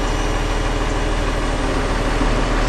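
A truck engine idles and labours steadily as the rig attempts to pull forward against the trailer hand brake during a Class A air brake test, a continuous low rumble with vibration, close and loud throughout, no talking.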